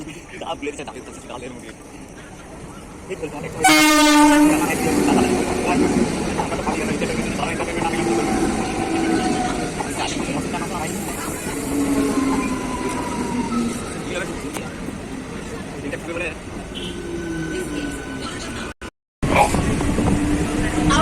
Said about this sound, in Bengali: তো ট্রেন অলরেডি আসছে তোমরা দেখতেই পাচ্ছ